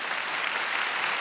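A short burst of dense, steady clapping in a podcast setting, close and even throughout.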